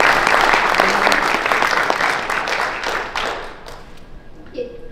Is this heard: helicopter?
no